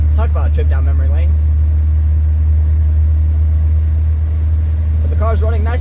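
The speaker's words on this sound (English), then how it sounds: "But the car's running nice and cool now." A 1990 Eagle Premier car engine runs at a steady, close, low hum with no revving, while a voice talks briefly at the start and again near the end.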